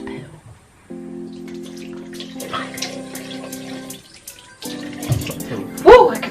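A kitchen tap runs as hands are rinsed clean of broccoli, a soft splashing stream with the flow changing as the hands move, along with faint tonal hums and a brief louder splash near the end.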